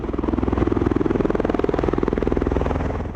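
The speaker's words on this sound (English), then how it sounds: "The Osprey is unlike any other aircraft in the world. It takes off like a helicopter and flies fast like a plane." A V-22 Osprey tiltrotor aircraft flies close by, its rotors producing a loud, steady thudding throb with a rapid pulsing rhythm that continues without a break.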